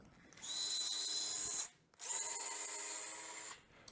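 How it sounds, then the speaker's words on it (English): A power drill drives a screw, whining loudly in two sustained bursts with a brief pause between, close by, the motor pitch steady as it drives. "sometimes you'll have to drill it through"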